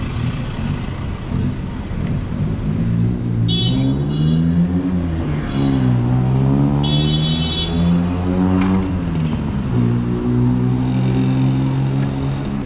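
A large Ford vehicle on a busy Bangkok street, its engine rumbling close by and rising and falling in pitch as it revs and moves, set against surrounding traffic noise.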